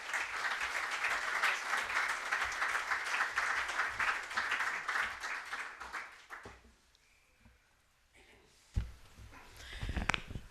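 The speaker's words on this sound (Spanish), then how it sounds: "recibamos con un fuerte aplauso a la doctora Laura Chinchilla Miranda" An audience at a political leadership training programme gives a sustained round of applause welcoming former Costa Rican president Laura Chinchilla as she takes the stage. The applause is steady for about six seconds, then fades into quiet with a few bumps and handling noises.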